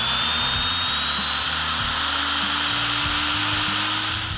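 An electric drill motor spins a numbers-matching Plymouth Cuda engine without bogging, running continuously at a steady high whine, loud and close, with a low uneven rumble underneath.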